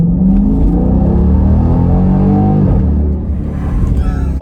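Loud, close acceleration from a 2021 Dodge Durango Hellcat SRT, the engine roaring and climbing steadily in pitch for about three seconds before easing off briefly and building again.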